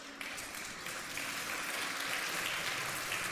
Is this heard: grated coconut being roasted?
no